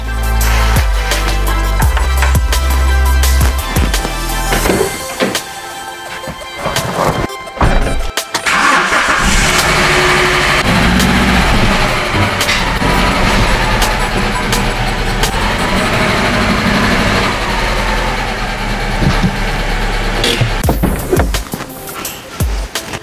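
An Alfa Romeo GT JTS engine cranks and starts, then idles with a steady, close, loud running note, with some clattering noises partway through.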